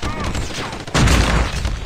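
Gunfire bursts loudly in Call of Duty Mobile, a sharp burst of rapid shots hitting about halfway through, with a voice talking over the action.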